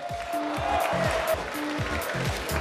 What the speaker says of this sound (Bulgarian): Аплодисменти за Поморие и представителът на Видин